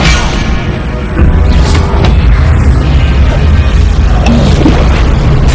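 A Confringo explosion spell cast in Hogwarts Legacy, a loud booming blast that sets off a dense, sustained rumble with smaller crackling pops scattered through it.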